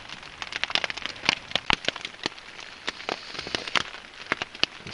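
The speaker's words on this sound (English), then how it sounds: "day number 3, and it's still raining" Rain patters on an improvised shelter at a wet winter campsite in the Hoh Rain Forest, with close, irregular sharp drips tapping over a soft steady shower.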